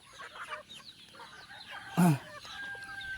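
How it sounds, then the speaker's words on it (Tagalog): A chicken outdoors near feeders gives a single loud squawking cluck, close and abrupt, over faint background murmurs and quieter clucks from other chickens. "Uy, Fred, manok sa gawas."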